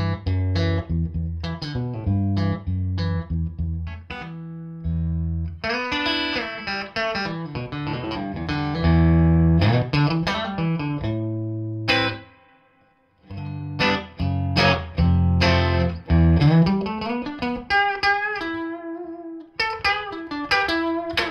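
Electric guitar played through a Bartel Roseland amp with both tone knobs turned fully up, bright and loud with chords and single-note runs, a brief pause near the middle, no voices.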